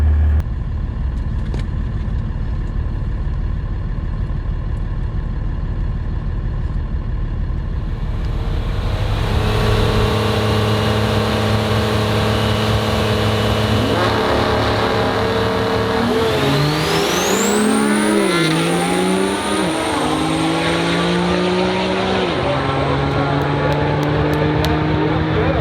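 Truck engine revving hard at full throttle, a loud sustained roar that builds and climbs in pitch, then shifts and rises again as the throttle is let off, no talk over it.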